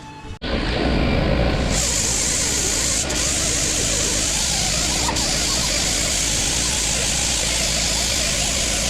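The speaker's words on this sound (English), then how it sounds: "clean it with a little bit of brake clean, lacquer thinner, whatever you got" Brake cleaner sprayed onto the engine deck of a small block Chevy V8 that sat for 20 years, a loud, continuous aerosol hiss that starts abruptly and holds steady close to the microphone.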